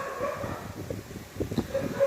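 A dog yips and whimpers in short bursts indoors during a live chess commentary stream, fairly close, with faint background noise.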